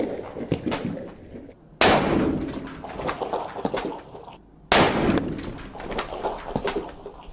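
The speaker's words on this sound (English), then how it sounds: "Hey, you can't blow up the Easter bunny." A Kinder chocolate Easter bunny is blown up with two loud, sudden blasts a few seconds apart, each trailing off into crackling debris and ringing noise.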